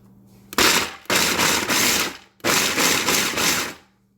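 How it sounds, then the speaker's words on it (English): A food processor chopping walnuts and pecans for an icebox fruitcake: loud, close bursts of rattling, grinding whir, roughly two pulses of about a second or more each separated by short pauses, with nothing else heard. "I'm going to chop them up and then I'll come back. Because I'm going to do this here food processor and it'll take a while."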